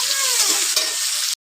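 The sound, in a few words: potatoes and onions frying and being stirred in a pan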